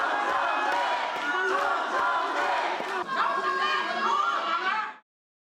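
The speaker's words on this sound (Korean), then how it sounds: "후보들이 나란히 참석한 정견 발표에서는 야유와 연호가 뒤섞였습니다." A large crowd at South Korean candidates' policy speeches roars with mixed booing and rhythmic chanting, a dense, loud, continuous wall of voices that cuts off abruptly at the end.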